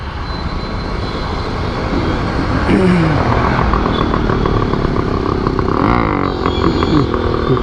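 Dense road traffic rumbling around a delivery rider on a motorcycle, with steady engine drone and passing vehicles close by, one brief rising whine partway through and no talking.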